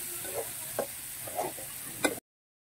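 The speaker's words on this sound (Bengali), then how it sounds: "এখন ভাজা হচ্ছে যেটা, তেল মশলা দিয়ে সব দিয়ে ভাজা হচ্ছে" Small fish frying in oil with spices in a wok, a soft steady sizzle broken by a few brief stirring knocks and scrapes, close by with no talk.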